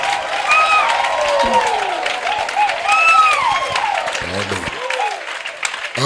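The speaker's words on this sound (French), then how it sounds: "Maintenant, l'acclamation à l'Éternel les armées." Congregation at a church service applauding and cheering in praise, loud and sustained, with voices and shouts rising over steady clapping throughout.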